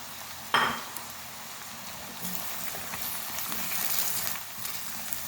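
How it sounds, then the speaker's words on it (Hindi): Chopped onions frying with taro root (arbi) in a pan, giving a soft continuous sizzle with a sharp clink near the start and a light stir later, low and steady with no voices. "अब 1 से 2 मिनट ज़रा प्याज को हम थोड़ा फ्राई करेंगे।"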